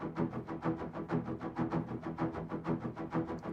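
Strings transposed down an octave with no plugins, a dense low, murky pulsing texture with a steady rhythmic swell, quiet and thick.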